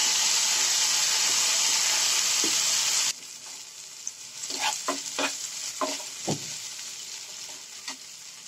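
Blended tomato is poured onto onions frying in a pan; a loud steady sizzle cuts off abruptly, followed by quieter spluttering and several scraping stirs.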